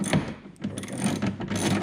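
Rapid clicking of a ratcheting tie-down strap being cranked tight while installing a storage lounger seat on an ATV, a quick series of close, crisp ratchet clicks in short bursts.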